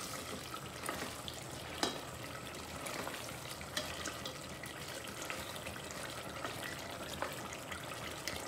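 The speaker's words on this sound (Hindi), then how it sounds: "इसको अच्छे से भून लेंगे" Tomato masala for chicken biryani frying in a pot, a faint continuous sizzle and bubbling hiss with occasional light stirring clicks, quiet and steady, no talking.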